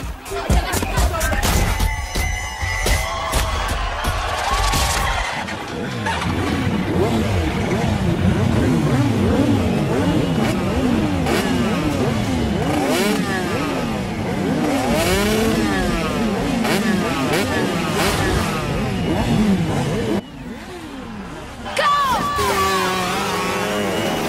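Motorcycle engines rev and roar repeatedly, rising and falling in pitch, with a crowd chattering and shouting around them.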